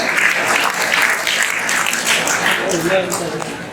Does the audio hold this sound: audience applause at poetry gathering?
yes